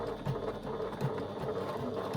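Sewing machine running a second line of top stitching at an eighth of an inch, a steady fast mechanical whirring with rhythmic needle thumps, close and alone.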